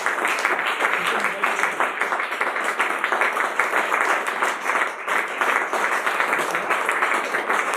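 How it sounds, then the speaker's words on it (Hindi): A church congregation at a Saturday night meeting bursts into loud, sustained applause to welcome a pastor, dense rapid clapping filling the room steadily throughout. "हम जोरदार उनके लिए ताली बजाते हुए स्वागत करेंगे।"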